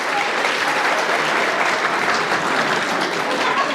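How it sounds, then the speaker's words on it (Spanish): Guests at a quinceañera celebration in Coacoyula, Guerrero, give a loud, dense round of clapping that stays even throughout, with no pauses. "Fuertes los aplausos para Britney."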